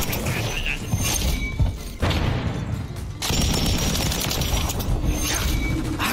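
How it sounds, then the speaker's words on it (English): Pulemyot LMG light machine gun firing in Call of Duty: Modern Warfare 3, a dense sustained burst of rapid shots with brief gaps, loud and close, amid mechanical clatter and other game noise. "This is the pulmyot LMG. Not only is its sound effects just awesome, but it has a huge magazine"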